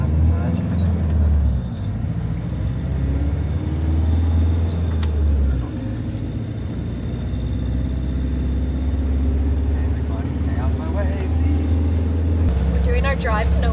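A van is driven along a road, its engine and road noise a steady low drone from inside the cabin, with a few shifts in tone and occasional brief clanks and rattles.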